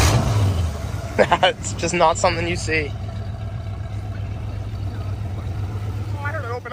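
A 1966 prototype muscle car on old American Racing wheels holds a deep, steady engine rumble throughout, under people talking nearby.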